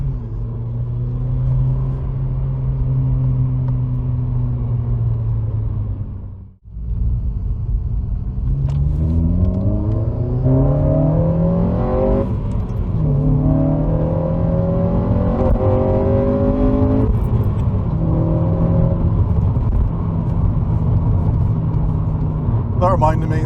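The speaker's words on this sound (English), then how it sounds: "that air intake that I made, it makes such a better sound than what it did before" Honda Civic Type R FN2 (Mk8) fitted with a homemade air intake, coilovers and big brake kit, engine rumbling loud from inside the cabin, dropping sharply on a gear change then climbing through rising revs under acceleration.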